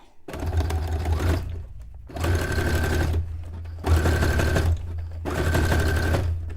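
Sewing machine stitching fabric for a cone-shaped cape or dress: four bursts of rapid, whirring mechanical stitching, each about a second long, separated by brief pauses, close and loud.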